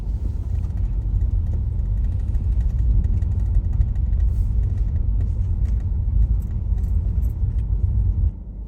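A car drives steadily along a road, its deep, even engine and road rumble filling the cabin without a break until it eases slightly at the very end; no one speaks.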